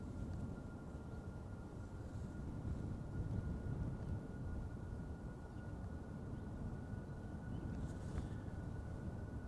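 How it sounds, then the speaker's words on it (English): A Cargolux cargo plane operated by Cargolux Italia rolling for takeoff at Amsterdam Schiphol, bound for Luxembourg: a steady, distant low engine roar with a faint tonal whine, continuous and fairly quiet. "Cargolux to Luxembourg is rolling"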